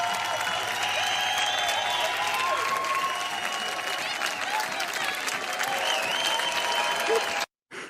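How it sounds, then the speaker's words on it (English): A TV show studio audience claps steadily in a dense, sustained round of applause, with some crowd noise mixed in, before it cuts off abruptly near the end. "They're clapping. Why are they clapping?"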